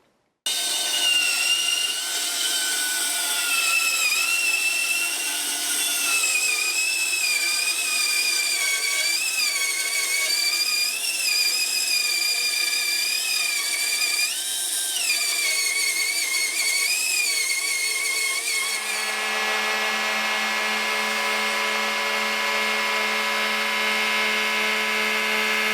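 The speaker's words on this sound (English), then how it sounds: "So I'll head over to the bandsaw and just take a slice off there" A bandsaw cuts a slice of wood off a guitar headstock during a Telecaster build, giving a loud, steady, whining tone with wavering pitch that runs unbroken for about 18 seconds, then settles into a flatter, lower hum as the cut ends.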